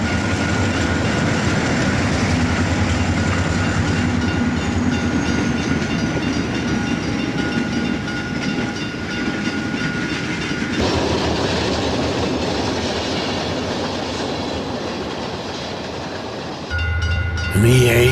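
An eastbound Erie Lackawanna train pulls into Secaucus station for its stop, its loud steady rumble and clatter running for a long stretch before a sudden change and a brief sharper burst at the end.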